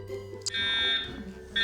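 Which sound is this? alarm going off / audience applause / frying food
alarm going off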